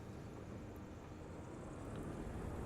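Partenavia P-68 twin-engine propeller plane in Microsoft Flight Simulator, a steady broadband engine roar holding constant and swelling slightly as power comes up for takeoff.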